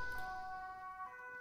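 Emergency vehicle sirens passing outside a home, a steady wailing tone heard faintly from a distance through the walls, with no voices over it.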